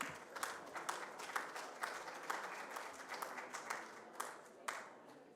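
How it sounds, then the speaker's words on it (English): Conference audience gives a sparse round of applause as a presenter takes the stage, with scattered individual claps standing out from a modest, moderately distant patter. "So if you can give Elena a warm round of applause as she takes to the stage."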